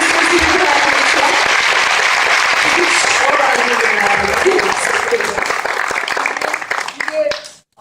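An audience at an outdoor city orchestra concert in İzmir bursts into loud, dense applause that holds steady for about seven seconds before cutting off abruptly.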